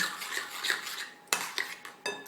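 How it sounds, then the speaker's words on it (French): A utensil stirs tarte flambée mixture in a bowl, giving scraping swishes and a few sharp clinks against the bowl's side, close and moderately loud. "Donc ensuite, vous allez remuer"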